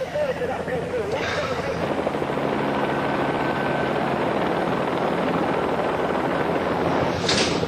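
A police helicopter drones steadily overhead, its rotor noise filling the background while people talk faintly beneath it.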